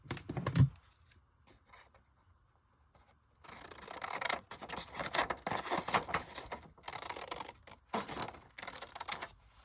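Scissors cutting a sheet of paper corner to corner to make a pocket page for an ideas book, with a single snip at first and then a dense run of rapid, close snipping and paper rustle.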